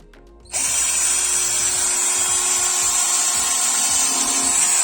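A power drill drives screws while the rear of a coach is taken apart for a camper conversion. The motor starts abruptly after a short quiet lead-in and then whines steadily and loudly at close range, with faint knocks underneath.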